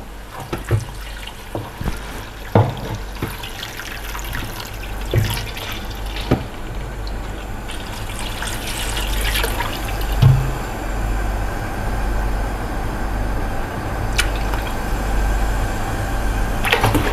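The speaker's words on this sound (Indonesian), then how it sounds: "Kita isi air, lalu kita didihin." Water poured into a pan of frying rawon spice paste in oil, a steady splashing, sizzling rush with scattered clinks and knocks, close and fairly loud, no voices.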